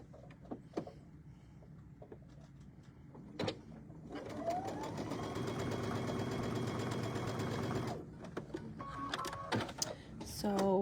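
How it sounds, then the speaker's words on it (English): A sewing machine runs a quarter-inch seam through fabric pieces for half-square triangles, a steady mechanical whir of about four seconds at close range, with quieter handling clicks before and after. "we're going to stitch 1/4 inch down each side here"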